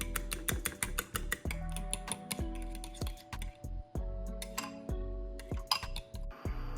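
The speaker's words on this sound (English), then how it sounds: "Give it a gentle whisk with a fork until just combined" A fork whisking eggs clinks rapidly and repeatedly against a bowl, a quick run of sharp, bright taps with short pauses, close and fairly quiet.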